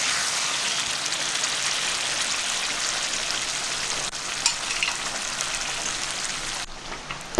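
Chickpea masala with boiled kabuli chickpeas sizzles and crackles steadily in a pan while being stirred, a loud continuous hiss close up, ending with a brief clatter.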